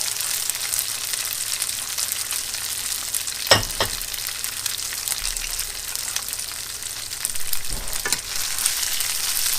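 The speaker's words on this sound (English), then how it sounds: "we're just going to toss this around until the rice gets heated all the way through" Rice sizzles steadily as it is tossed and fried in a pan for eight-jewel fried rice, with a constant hiss and two sharper scraping tosses partway through.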